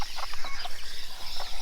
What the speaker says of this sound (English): Chicken language is so awesome.